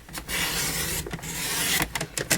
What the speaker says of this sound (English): I forgot to trim or change my trimmer blades so they're not cutting as sharp as I would like them